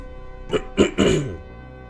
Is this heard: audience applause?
no